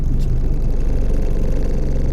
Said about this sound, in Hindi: रेस देख के रखो, नहीं तो गाड़ी रुक जाएगी।